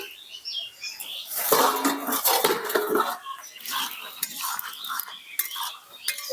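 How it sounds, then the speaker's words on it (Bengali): A metal lid comes off a cooking pot of jackfruit and prawn curry with a cluster of close clinks, scrapes and rattles, then quieter clatter, with no talking. "এবার আমি ঢাকনাটি খুলে নেব।"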